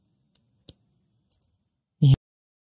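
A few sharp clicks from a computer mouse on a desk, two small ones spaced apart, then a louder, fuller click, close up and isolated against near silence.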